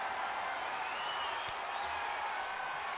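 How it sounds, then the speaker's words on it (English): Roaring video game arena crowd during a WWE 2K22 women's wrestling match, a steady broad wash of cheering and noise with a brief sharp impact partway through. "Crowd's going wild here."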